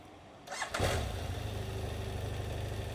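A motorcycle engine cranks and catches with a sharp burst, then settles into a steady, close, throbbing idle, in Asunción, Paraguay, after repairs.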